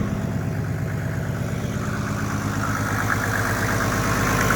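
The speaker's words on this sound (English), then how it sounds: "This is the engine idling." A 1963 Mercedes 220SE W111 swapped to an OM606 turbo diesel idles smoothly and steadily up close, with a loud, even low-pitched diesel rumble and no talk.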